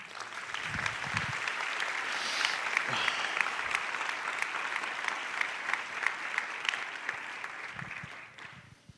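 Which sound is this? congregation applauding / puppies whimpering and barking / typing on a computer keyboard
congregation applauding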